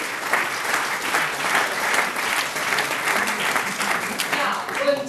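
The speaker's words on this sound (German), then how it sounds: "Die haben wirklich dicken Applaus verdient." Loud, enthusiastic applause from a large crowd at a New Year's reception, clapping steadily throughout with a few voices mixed in.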